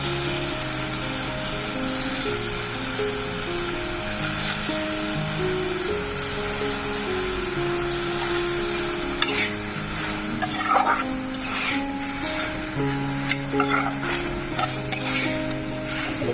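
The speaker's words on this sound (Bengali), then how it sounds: "মশলাটাকে কষানো হয়ে গেছে আমার এবার দিয়ে দেবো মাছগুলো" Fish dropped into a pan of fried spice paste, steady loud sizzling and frying throughout, with stirring and scraping strokes picking up in the second half, no voices.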